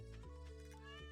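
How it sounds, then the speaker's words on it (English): Poofle, a pet cat in the farming game Stardew Valley, gives a single short, drawn-out meow, faint and alone with no talking. "That's my cat, Poofle."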